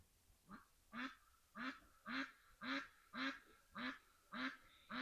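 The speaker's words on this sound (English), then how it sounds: "Just like that duck quacking in the background." A duck quacks in a steady series of about nine loud, evenly spaced calls, each a harsh nasal burst close by with no other sound between them.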